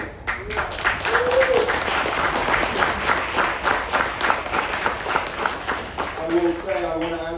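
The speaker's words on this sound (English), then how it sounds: "I think that deserves a big round of applause." A crowd at a Misfits Boxing post-fight press conference applauds in a sustained, dense round of clapping lasting about six seconds, and a voice starts speaking over the tail end.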